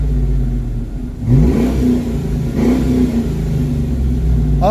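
A 1994 Vert's engine runs at a low, rumbling idle and then revs up twice in quick blips, each time falling back to idle, close and loud with no talking.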